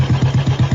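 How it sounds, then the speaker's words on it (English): A Royal Enfield Bullet 350cc single-cylinder, air-cooled four-stroke motorcycle engine idles with a steady, relaxed thumping beat. It gives a loud, close run of even low pulses with nothing else heard. "the Enfield Bullet's single-cylinder air-cooled engine's relaxed beat sends a message to its user"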